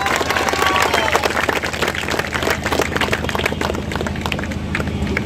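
An audience at a district cricket association event claps together in sustained, dense applause that stays fairly loud and steady, with a faint crowd murmur underneath.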